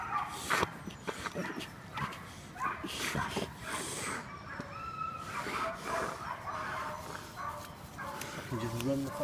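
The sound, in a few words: hunting hounds barking and whimpering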